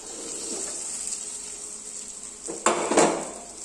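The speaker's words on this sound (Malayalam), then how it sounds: "എന്നിട്ട് നമുക്ക് നന്നായിട്ടൊന്ന് മിക്സ് ചെയ്ത് കൊടുക്കാം" Papaya (omakka) curry being stirred and mixed in a pan, with soft scraping and a couple of louder metal clinks near the end, no talking.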